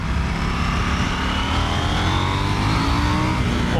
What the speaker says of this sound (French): Puis au niveau du bruit de la moto, franchement, elle ronronne bien.